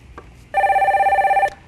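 A telephone rings once in a single sustained electronic tone lasting about a second as a caller is connected to a Korean stock-market call-in broadcast, loud and clear with no talk over it.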